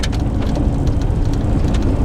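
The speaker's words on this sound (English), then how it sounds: "Oh, there's some raindrops falling" Raindrops patter steadily on leaves and ground in a Pennsylvania state forest, a dense, even shower of small ticks over a low rumble of background noise, with no voices.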